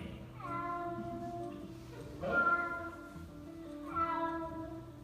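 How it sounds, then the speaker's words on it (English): A cat meows three times at a relaxed, even pace, each cry drawn out and clear against a quiet background. "A cat sounds like this."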